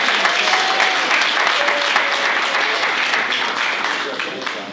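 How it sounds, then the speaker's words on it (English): Banquet audience applauding the board members, loud, dense clapping from a full room that holds steady and begins to taper off near the end. "if we could please get a round of applause for all of those who serve on the board"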